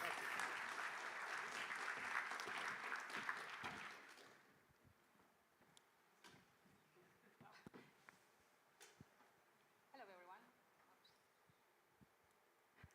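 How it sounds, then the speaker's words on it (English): Audience applause at a Bitcoin conference as speakers are welcomed on stage: dense clapping for about four seconds, then fading to scattered claps, shuffles and faint murmurs in a quiet hall. "Big round of applause"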